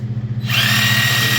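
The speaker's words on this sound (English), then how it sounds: "stop with the Sawzall" A Sawzall reciprocating saw starts up and cuts steadily through a pig carcass during butchering, a loud, close buzzing with a fast pulsing rhythm and no talk.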